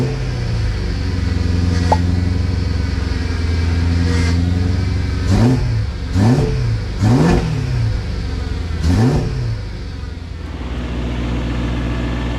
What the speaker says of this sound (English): Turner exhaust sounding fantastic